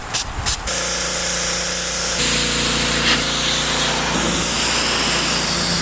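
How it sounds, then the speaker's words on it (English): Goo Gone is sprayed onto old, sun-baked Plasti Dip on a Range Rover's hood, a loud close hiss holding steadily over a low background hum after a few quick opening pumps. "we're going to throw a little Goo Gone on it, let it soften it up"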